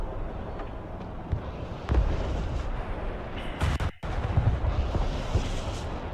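In the video game Broken Arrow, heavy blasts and artillery-like booms rumble as a tank or vehicle is blown up, with a rough, continuous battle din and a sharp burst near the middle.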